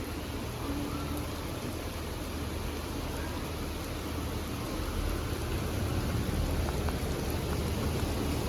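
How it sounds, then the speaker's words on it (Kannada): Heavy rain pours down in a dense, continuous roar of drops hitting surfaces, steady throughout with no pauses. "ಮಳೆ ಗೈಸ್ ಫುಲ್ ಮಳೆ"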